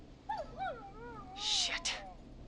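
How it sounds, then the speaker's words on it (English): A neighbor's dog whimpers and whines in the video game Killer Frequency, rising and falling plaintive cries near and moderately loud, followed by a brighter burst of noise partway through. "Is that a neighbor's dog?"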